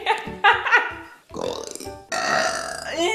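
A woman burps repeatedly, a series of loud, drawn-out belches with short gaps, the last one long and sustained, close to the microphone.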